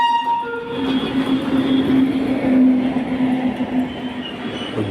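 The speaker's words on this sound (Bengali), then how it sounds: "কিন্তু তার আগেই দেখো একটা এক্সপ্রেস ট্রেন আসছে" The Jammu Tawi Express pulls into Dakshineswar station with a heavy, close rumble and rattling wheels, a sustained tonal note riding over the steady roar of the passing coaches.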